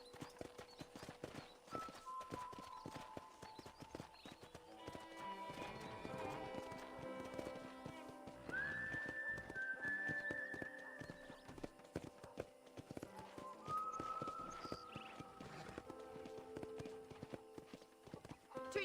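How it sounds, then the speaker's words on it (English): Rhythmic clip-clop of horse hooves in the video game Red Dead Redemption continues throughout, with occasional tonal synthesized notes and faint talk in the background, moderately quiet and steady. "let's see if you can still ride a horse."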